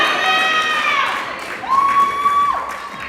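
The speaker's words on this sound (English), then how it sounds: "We do have a lot of noisy people in the crowd today." A noisy crowd cheers and whoops at the Tasmania Cup 2025 powerlifting competition, with shrill whistle-like calls rising over a steady roar of voices for a few seconds.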